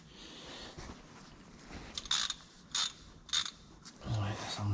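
A ratchet wrench with a socket works on the rear wheel bearing of a 2011 Mercedes Luton van, giving several short bursts of clicking ratchet strokes, close up in a quiet space, with some faint handling noise.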